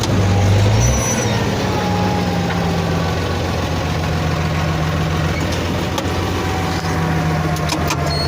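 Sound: URSUS 1634 tractor turning around while sowing rapeseed

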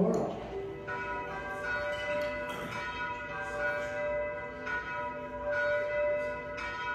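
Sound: Paccard church bells ringing

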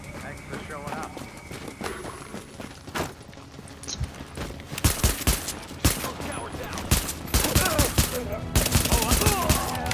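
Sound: gunfire in the video game The Division

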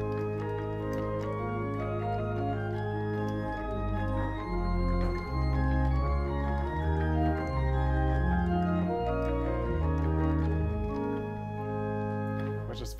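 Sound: pipe organ 4-foot Gemshorn stop

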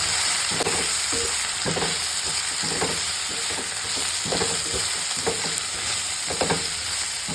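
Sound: sautéing chickpea curry ingredients in oil

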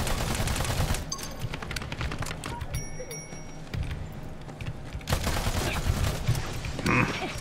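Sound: Stinger turret firing in Battleborn video game

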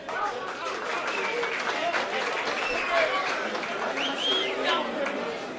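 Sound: applause for the third-place team at an awards ceremony

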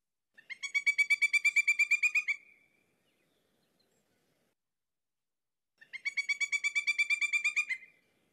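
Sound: bird song of a common southwest Ohio bird

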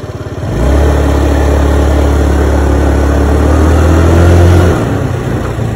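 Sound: Kymco Super 8 150 scooter engine accelerating

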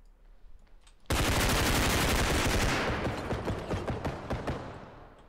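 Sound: gunfire in the video game Bodycam

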